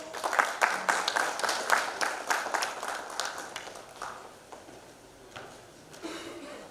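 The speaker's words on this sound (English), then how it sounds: "Huge round of applause." A government technology audience in Guwahati gives an official rhythmic applause, crisp claps in a steady pattern that gradually thin out and fade over several seconds.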